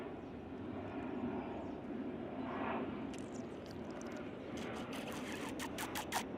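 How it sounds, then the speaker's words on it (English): A propeller airplane drones overhead in the background, a steady broad rumble holding throughout, with faint scratchy rustles and clicks close by. "we've got a plane going on in the background there"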